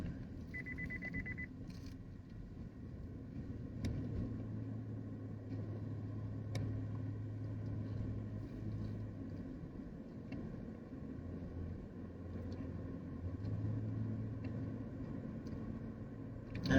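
A car driving through city streets in Philadelphia toward Kensington, with a steady low engine and road rumble, brief tonal traffic sounds near the start, and the engine swelling and easing as the car moves through an intersection.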